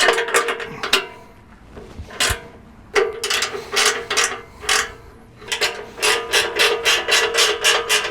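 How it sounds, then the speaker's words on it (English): Ratchet wrench clicking in repeated bursts while tightening seven nuts and bolts on a Jeep's steel front bumper, close and crisp, with short pauses between runs of rapid pawl clicks and no talking. "It's just 7 nuts and bolts that hold all this together, and I'm going to go through, tighten these up"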